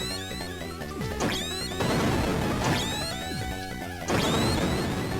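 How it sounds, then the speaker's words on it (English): Grenade blasts pound the boss Red Blaster in Metal Gear 2: Solid Snake, a dense chiptune-style game soundtrack where sharp crashing impacts land roughly every one to two seconds over continuous music. "grenades can also go out of bounds, so we can just keep chucking grenades at him"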